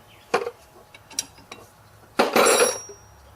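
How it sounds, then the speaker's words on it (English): A wrench working a bolt on a Ford Taurus 3.0L OHV engine, giving a few sharp metallic clicks and clanks, then a louder rattling scrape near the end, close with quiet gaps between. "I'm going to actually have to man up and use a wrench"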